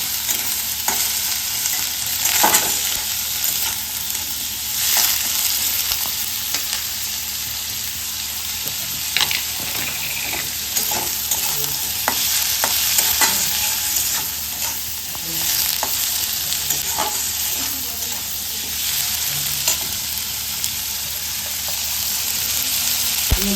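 Plenty of onions fry in hot oil in a home kitchen pan, a loud continuous sizzle with frequent stirring scrapes and clinks throughout.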